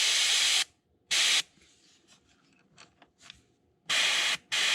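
Paint from an airbrush is sprayed onto a crankbait lure in four short, steady hissing bursts, close and fairly loud, with quiet handling noises in the gaps.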